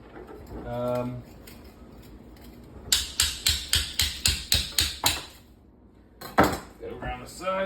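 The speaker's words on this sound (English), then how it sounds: "I'm gonna give it a good old tap through." A block of clear ice is struck repeatedly with a tool to split it: a run of about ten evenly spaced, sharp, ringing taps, followed by a few more hits later, with a person speaking briefly between.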